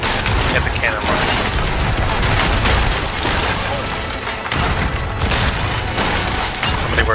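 Cannon fire during a pirate ship battle in a video game, loud repeated booms and splintering crashes layered over dense noise, with players talking over it.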